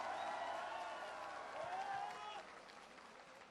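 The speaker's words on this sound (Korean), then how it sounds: "뜨거운 박수로 맞이해 주십시오." A crowd applauds and cheers in welcome at President Roh Moo-hyun's homecoming event in Bongha Village, a faint, even wash of clapping that thins toward the end, with a voice over it.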